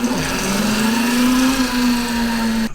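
An electric dirt bike from Temu runs at full power in sport mode, its motor giving a loud, steady, near whine that holds an even pitch for a few seconds before cutting off.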